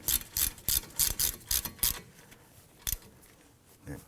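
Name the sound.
ratchet running down brake caliper bolts, Volvo XC90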